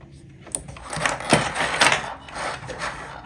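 A sewing machine stitches along the edge of apron fabric in short uneven runs, a soft mechanical whirring and rattling that rises and falls, close and fairly quiet.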